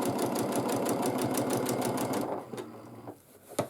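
A sewing machine runs fast during free motion quilting on a quilt block, a close, rapid rhythmic stitching clatter for about two seconds, then slows to a few separate stitches and stops.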